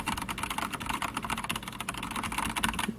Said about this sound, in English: you can still have a mechanical keyboard and not have it be loud as crap